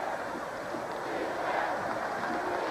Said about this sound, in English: The crowd certainly has gotten into the game.